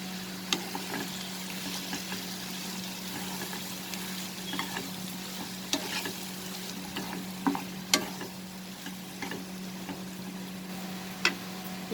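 Tomato and onion frying in a pan with salt and chili powder, a steady close sizzle with a faint hum underneath and occasional sharp clicks and pops of stirring throughout.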